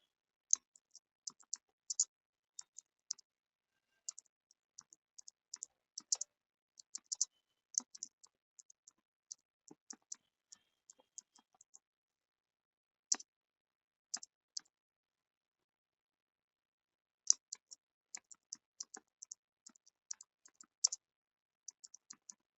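Someone types on a computer keyboard in quiet, scattered bursts of crisp clicks, with a few pauses between runs of keystrokes.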